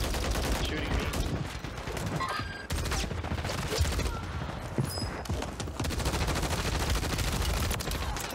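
Rapid bursts of automatic gunfire crackle in Call of Duty Warzone on Rebirth Island, firing in several dense volleys and single shots at mixed distances while players talk over the shooting.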